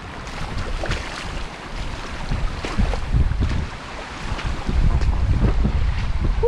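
Strong, gusty wind blowing steadily and loudly during heavy rain, with low rumbling buffets against the microphone and no talking.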